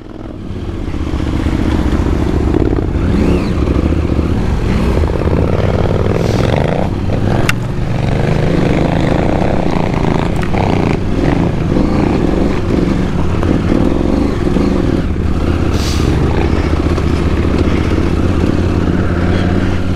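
KTM motorcycles ride at a Bay Motorcycles KTM Rallye, the engines droning loud and steady throughout, with rising revs, clatter and a few sharp knocks over the top.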